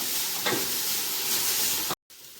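Mudakathan leaves and vadagam frying in a pan, a steady close sizzle with a brief stirring scrape, then a sudden cut to near silence at the end.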